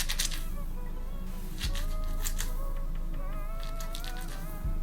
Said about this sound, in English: A great test to know if you have enough product in your hair is to do the squish test.